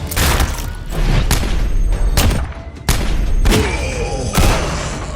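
Cannon blasts and gunfire from the Western video game Neversoft's GUN: loud booms and crackling volleys erupt repeatedly over a dense, continuous battle din.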